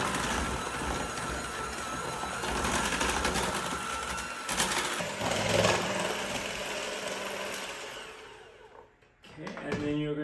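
Electric hand mixer whirring steadily as it mixes chocolate and butter, a continuous buzzing drone that runs almost unbroken before briefly cutting out near the end and starting again. Some talking can be heard under the motor.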